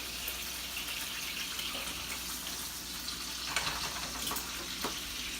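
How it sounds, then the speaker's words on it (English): Butter and crushed garlic cloves sizzle in a pan for steak, a steady crackling hiss with a few louder spits near the end, no talking. "Next, I like to add a little bit of butter, some crushed garlic cloves"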